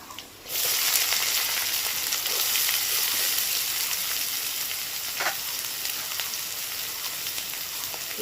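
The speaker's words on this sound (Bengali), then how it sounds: "পেঁয়াজটাকে একটু ভালো করে ভেজে নেব পেঁয়াজটা বাদামি করে ভেজে নিতে হবে" Finely chopped onions hit hot oil in a pan and burst into a loud, close sizzle after a brief quiet start, then keep frying in a continuous crackling hiss with an occasional stir.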